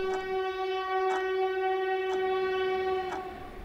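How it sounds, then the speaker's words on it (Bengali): A train horn sounds in a long sustained blast with a steady mid-pitched tone and rhythmic clicks underneath, heard as a sound effect in a ghost story set at a lonely station. "স্বপনবাবু একটা ট্রেনের শব্দ শুনতে পায়।"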